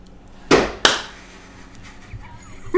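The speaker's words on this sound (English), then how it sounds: "Thunderous thigh slap starts the video." Two sharp, loud slaps land on a thigh about a third of a second apart, followed by quiet room noise and a small thump at the end.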